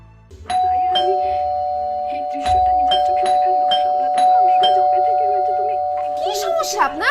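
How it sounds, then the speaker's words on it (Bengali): An electronic doorbell chimes in a home, one long sustained tone held for several seconds and struck again at intervals, with a voice and scuffling sounds beneath and a burst of talk near the end. "সে তখন থেকে কলিং বেল দিতেছে"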